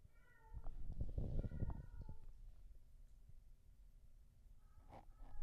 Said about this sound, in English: It's either mating or your cat's getting murdered.